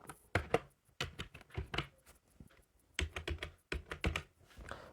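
Someone types a captcha code on a computer keyboard: quick bursts of clicky keystrokes in uneven clusters with brief pauses, close and clear, with no voices.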